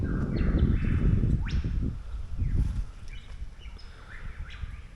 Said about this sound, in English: The birds are waking us up.